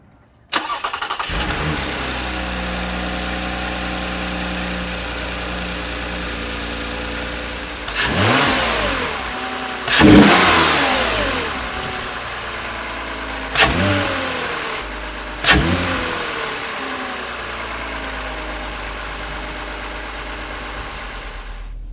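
A 2020 Toyota Camry fitted with an Injen cold air intake starts up and idles, then gets four sharp revs spaced a few seconds apart, each surging and falling back to a steady idle.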